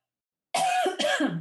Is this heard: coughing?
yes